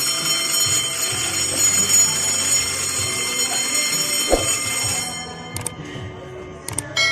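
A conventional FDAS fire alarm bell rings loud and continuous during an installation test, then cuts out abruptly and gives a few brief bursts near the end.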